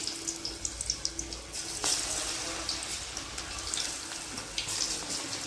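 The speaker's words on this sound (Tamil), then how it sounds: "எண்ணெய் அடுப்பில் வச்சுருக்கேன் அது சூடாகிடுச்சு இப்போது நம்ம கோவக்காவை போட்டுருவோம்" Ivy gourd (kovakkai) pieces dropped into hot oil, giving a steady crackling fry with bright bubbling and hiss that holds through the moment, no voices over it.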